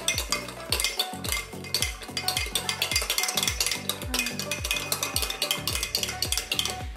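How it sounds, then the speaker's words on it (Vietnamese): A spoon stirs gelatin into a durian mousse mixture in a bowl, scraping and clinking in a steady, repeated rhythm, close and fairly loud with no talking. "mình khuấy đều gelatin lên luôn"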